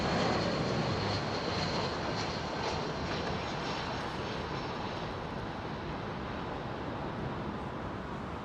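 An Etihad airliner moves at Heathrow, giving off a steady mid-distance engine drone and whine that fades gently over several seconds, with no talk.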